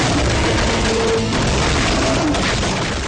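Gunfire from the zombie-shooting video game Little Red Riding Hood's Zombie BBQ, aimed with a stylus: a dense, loud stream of booming shots and crashes with no pauses.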